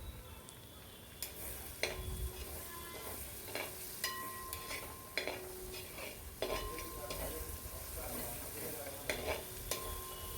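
Ginger and green chili paste sautéing in a pan for biryani, a low sizzle broken by regular sharp clinks and scrapes of a metal spatula against the pan at a roughly even pace.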